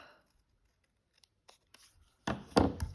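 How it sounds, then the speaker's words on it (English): A few quiet snips of scissors trim the chimney off a punched paper house, with soft cuts early on and two louder, sharper snips near the end. "But I'm going to trim the chimney off"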